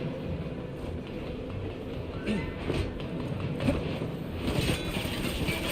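A train rolling along in a Crisis Core Final Fantasy VII Reunion cutscene, a steady dense rumble with faint rattling and wind-like hiss throughout, and a voice speaking over it.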